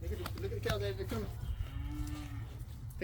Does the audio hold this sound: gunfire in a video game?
no